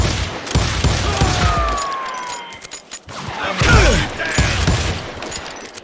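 Gunfire rattles in the Western shooter Call of Juarez Gunslinger: dense volleys of shots and heavy thuds that come in two loud waves separated by a brief lull.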